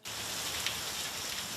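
Steady rain falls with a dense, even hiss, close and continuous, no other sounds standing out.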